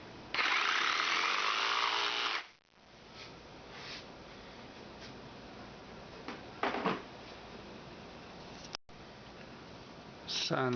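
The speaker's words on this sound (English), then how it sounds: "Now if you don't have a handsaw, you can use your jigsaw." A jigsaw cuts wood in one loud, harsh burst of about two seconds at close range, followed by quieter workshop handling noises.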